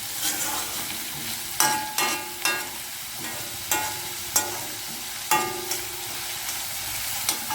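Crab gravy sautés in oil in a pan, a continuous close frying hiss punctuated by regular sharp spatula clacks and scrapes against the metal, about one every half second to second.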